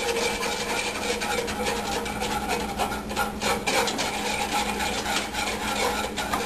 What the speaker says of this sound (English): And then we'll start slowly stirring that in, and that'll melt into the cream.